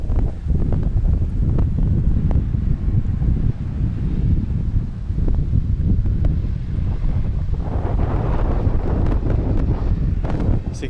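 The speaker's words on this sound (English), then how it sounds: "Oh, it's windy." Strong wind gusts buffet the microphone in a flat Caucasus mountain village in Tianeti, Georgia, a loud, steady roar with rumbling surges that continue throughout.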